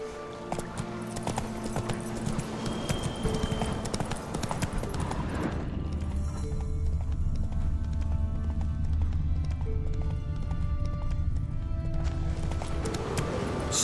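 A horse gallops in The Witcher 3: Wild Hunt, its hooves pounding in a fast steady clip-clop rhythm, loud and close over an ambient game backdrop that shifts partway through.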